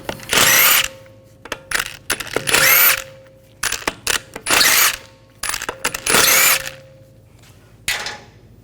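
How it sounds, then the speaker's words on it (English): A power tool with a 17mm socket spins lug bolts off a 2011-2018 Volkswagen Jetta wheel, giving repeated loud whirring and rattling impact bursts of about a second each, separated by short clicks and pauses, close up. "Now we're going to remove the lug bolts. Use a 17mm socket."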